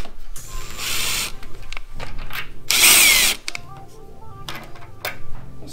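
A power tool buzzes in short bursts while bolts come out of a Honda Rebel 1100 motorcycle, several close whirring runs with ratcheting clicks, the longest and loudest burst near the middle.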